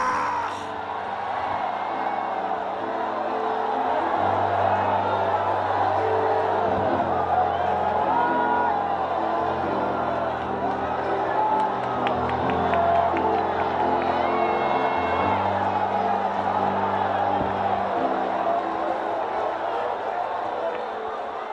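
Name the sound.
church congregation shouting and cheering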